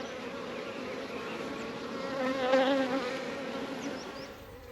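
Honeybees buzz steadily during a spring hive inspection, a faint continuous close-up drone that swells briefly in the middle, with no talking.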